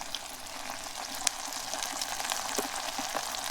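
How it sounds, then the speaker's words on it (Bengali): Spice masala with garam masala, cardamom and cumin paste fries in a pan for beef with bottle gourd. It makes a dense, even sizzle with faint stirring ticks, close and continuous. "এখন সুন্দর করে আমি মশলাটা কষাই নেব"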